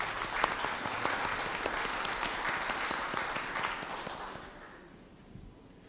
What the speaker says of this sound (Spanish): Un fuerte aplauso para recibirlo.